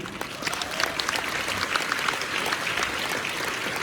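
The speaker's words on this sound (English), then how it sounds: "So a big round of applause to all of you." Audience applause fills a hall at a YouTube festival gathering, a dense, steady clapping from a large crowd heard close and loud throughout.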